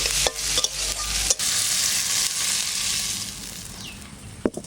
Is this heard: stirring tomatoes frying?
yes